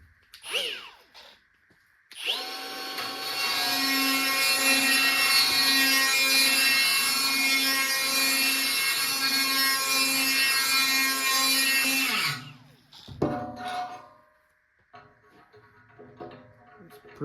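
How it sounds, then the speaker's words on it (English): A die grinder fitted with a burr grinds nuts while a tandem sleigh hitch is fabricated. Its loud, steady, high whine runs unbroken for about ten seconds, then stops and is followed by a few short clanks and scrapes. "Just using my die grinder with a burr."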